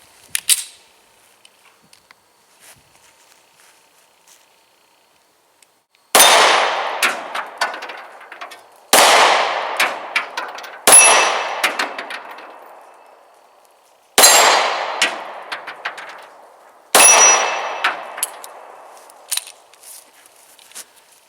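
Taurus PT709 Slim 9mm pistol fired outdoors, five loud sharp shots spaced a few seconds apart, each followed by a ringing decay, after a quiet lead-in with faint handling noises.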